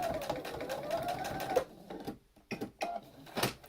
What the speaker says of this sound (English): I'm going to sew a 1/4 of an inch seam down here